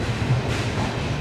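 Alipurduar Tourist Express pulling into Alipurduar Junction, a steady loud rumble of rolling wagons with low-frequency wheel drone throughout, easing off only at the very end.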